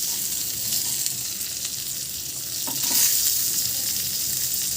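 Fish fries in a pan over low heat, giving a steady bright sizzle with a few soft stirring taps, close and unbroken.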